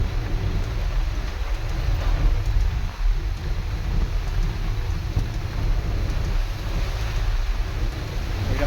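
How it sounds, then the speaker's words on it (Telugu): Heavy rain pours steadily during a wet-weather drive around Eturnagaram, a dense continuous wash with a low rumbling undertone, close and unbroken for the whole stretch with no talk. "ఇక మళ్ళీ ఎక్కువైంది వర్షం."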